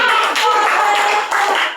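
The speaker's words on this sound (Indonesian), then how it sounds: "Tepuk tangan dulu." Classroom clapping during a teaching session, a short burst of many hands applauding together, bright and close, lasting under two seconds with some voices mixed in.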